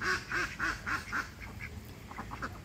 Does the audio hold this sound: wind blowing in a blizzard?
no